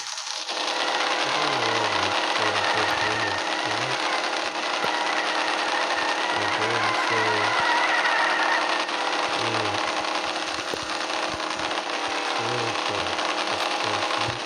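A drift car engine in the video game Offroad Outlaws revving steadily during burnouts, a continuous loud buzzing drone with repeated pulses of low revving throughout.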